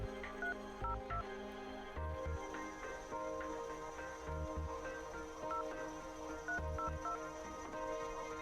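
Phone keypad tones sound as a number is dialed in the narrative game Red Strings Club: short electronic beeps repeat in irregular clusters over steady background music.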